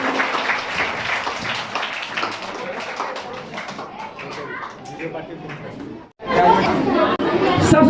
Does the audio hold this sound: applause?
yes